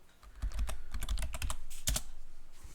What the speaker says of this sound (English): I typed in the wrong password.